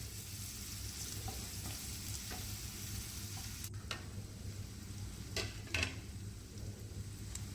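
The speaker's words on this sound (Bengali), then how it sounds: "পেঁয়াজটা ভালো করে কষে নেব" Chopped onion fries in oil and butter with a steady soft sizzle, punctuated by occasional spatula scrapes and clicks against the pan.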